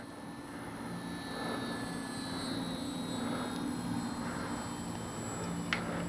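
A small FMS Ranger 1220 RC model airplane engine drones steadily overhead for several seconds, a constant buzzing hum with slight rises, no voices.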